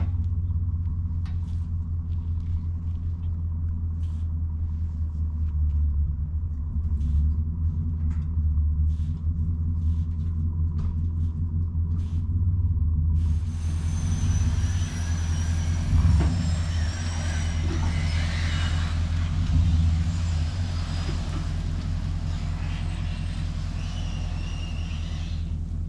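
An old Ford tractor engine drives along while landscaping, a loud, steady low rumble that continues throughout, with higher clattering and mechanical noise added in the second half.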